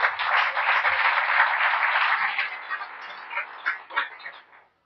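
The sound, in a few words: church congregation applauding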